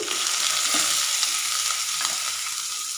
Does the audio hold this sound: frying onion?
yes